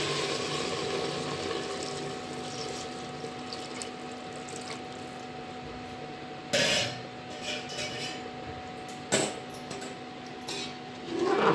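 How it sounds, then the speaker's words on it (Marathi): Hot water pours into a pressure cooker in a home kitchen, a steady close rushing flow with a few louder splashes and knocks near the end. "याच्यामध्ये गरमच पाणी टाकायचं."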